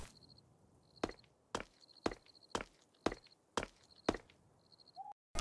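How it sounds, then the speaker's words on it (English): Zombie footsteps in the Roblox game Apocalypse Rising 2: a steady series of about nine sharp, evenly spaced thuds, each step clear and close, with faint high tones between them. "Now, I will play you the sound of the zombie footsteps."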